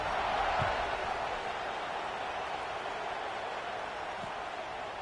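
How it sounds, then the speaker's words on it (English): A stadium crowd in a college football video game buzzes as a steady, broad roar throughout, with no clear individual cheers standing out. "this crowd is buzzing after that last score"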